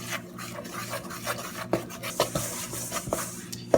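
Pizza dough being mixed by hand in a bowl after salt is added, giving soft, irregular rasping and rubbing scrapes close by, with a low steady hum underneath and no talk.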